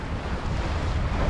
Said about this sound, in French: Le vent a viré, il est monté, on a 13 nœuds.